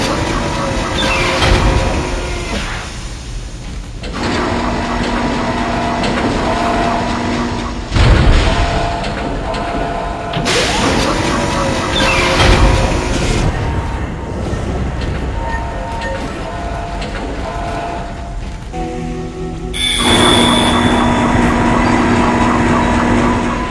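Heavy tram grinding and rumbling along its tracks on a space station in the video game Dead Space, with loud booming metallic clanks and surges over several seconds, no voices.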